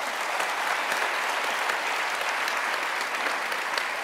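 A debate audience applauds in a large hall. The steady, dense clapping comes from many hands and fills the whole stretch without a break.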